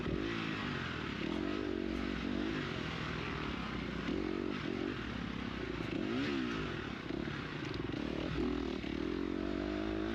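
A dirt bike engine drones steadily in a GNCC race at Camp Coker, revving up and down in repeated surges over rough ground, with faint clatter and scraping mixed in.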